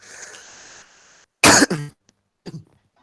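A person coughs once sharply, followed by a shorter second cough and a small throat-clearing sound, after a faint murmur at the start.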